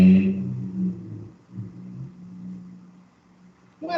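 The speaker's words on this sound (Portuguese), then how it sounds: "não era proibido andar com um carro fazendo barulho desse tanto?" A car with a very loud engine gives off a deep, droning rumble, strongest at the start and then holding steady, with a brief rise near the end.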